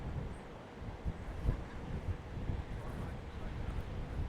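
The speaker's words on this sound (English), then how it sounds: "it's very, very windy" Low, rumbling buffeting of strong wind against a microphone outdoors in Devon and Dorset, gusting in uneven bursts throughout, fairly faint, with hints of a voice underneath.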